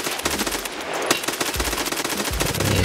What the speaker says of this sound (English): get a better shot with this wonderful M4 and take a gander at the body. Kind of start taking shots all around us at this point.